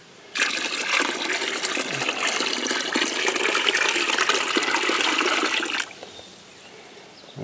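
Water gushes from a garden hose with a balky nozzle into a container for a cast iron ammonia soak, a strong steady rushing pour lasting about five seconds before cutting off abruptly, leaving quiet room tone.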